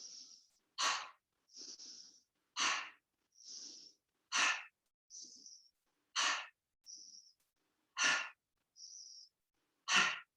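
Short, forceful nasal exhales in a seated yoga breathing exercise, about one every second, alternating with softer breaths, close and alone with no talking.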